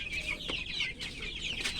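About 100 free-range village chickens clucking and chattering together, a busy overlapping flock sound with occasional sharper calls, fairly close and steady throughout.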